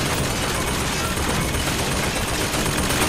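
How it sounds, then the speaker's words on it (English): A machine gun fires continuously in a shooter video game, a dense, unbroken, loud burst of gunfire that fills the whole moment with no pauses and no voices. "I can switch to the machine gun."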